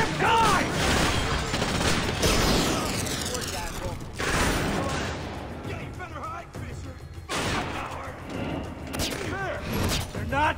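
Gunfire in the Xbox 360 game Splinter Cell Conviction, loud bursts and rapid volleys with crashing impacts across the stretch, broken by brief quieter gaps.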